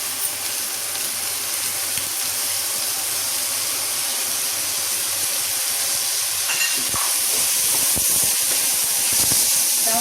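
Rice and tomatoes for khichdi fry side by side in a pan with a steady, close hiss and sizzle. Toward the end, a few scraping and stirring knocks break in over the hiss.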